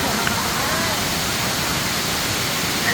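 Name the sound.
waterfall at Kambal Busay Falls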